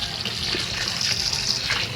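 Water pours steadily into a cooking pot while making spicy goat sisig, a loud continuous gushing splash that runs without pause and without talking.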